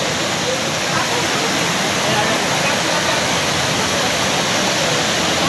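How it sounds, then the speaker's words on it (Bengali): The waterfall at Panchalingeswar pours down forcefully during the monsoon, a loud, steady roar of rushing water close by that fills the whole stretch without a break. "দেখো কত জোরে পড়ছে জলটা"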